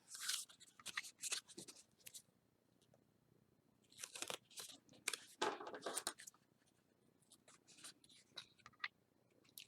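Scissors cut through a sheet of paper in quick bursts of crisp snipping and rustling, close up and fairly quiet, with short pauses between cuts.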